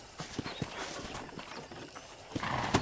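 Faint, irregular hoof clops of a horse walking on a ranch in the video game Red Dead Redemption, soft and somewhat distant over a muffled background.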